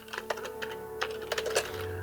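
Keys clatter on a PC keyboard in a quick, uneven run of clicks and taps, close and clear, with a low steady hum underneath and a slight shift in background tone near the end.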